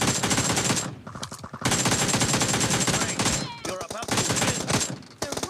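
Loud, continuous bursts of automatic AK rifle fire in an online shooter video game, with brief pauses between long volleys and game sound effects mixed in.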